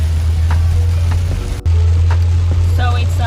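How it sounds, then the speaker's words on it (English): Heavy rain falls in a steady, dense hiss over a constant low vehicle hum, as if heard from inside a parked car or 4WD. "it's heavy rainfall today."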